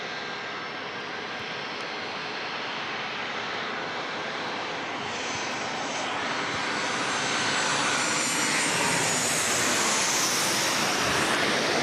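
A Delta Boeing 737-800 jet at San Diego International Airport gives a steady, loud engine roar that builds gradually as it passes, broad and continuous with no voices.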